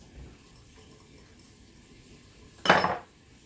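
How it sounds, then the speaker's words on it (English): A pot sits cooking down onions for sausage soup with chorizo, mostly quiet apart from a low simmer. Then a single sharp metal clank rings out, loud and brief, before the quiet returns. "cooking this down till the onions get soft"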